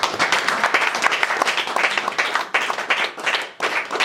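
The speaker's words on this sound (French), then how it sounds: "Acclamons pour cette parole" Church congregation applauding together, a dense burst of clapping that swells and dips over a few seconds.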